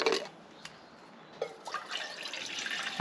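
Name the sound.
water being poured into a camping pot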